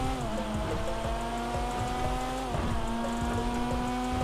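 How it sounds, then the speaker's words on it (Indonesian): Toyota Supra accelerating in GTA 5, a steady sustained engine drone with rising tones and a brief shift partway, constant and fairly loud without talk. "Tarikannya juga oke nih mobil."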